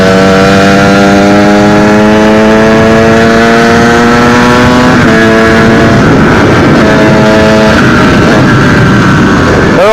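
A 125cc enduro motorcycle engine with an FMF Power Core 2 aftermarket silencer idling and revving nearby, its steady droning tone shifting pitch as the throttle changes, loud and continuous.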